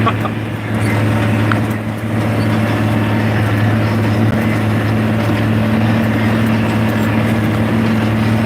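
A John Deere 4640 tractor with chrome stacks, at work cultivating, gives a steady loud engine drone with a deep even hum that holds for several seconds and carries no speech.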